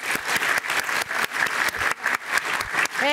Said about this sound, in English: We must give a big round of applause to our four singers this evening.